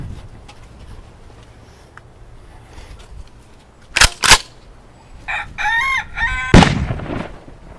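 A rooster crows loudly close by, its long harmonic call rising and falling, preceded by two sharp bangs over a quiet background.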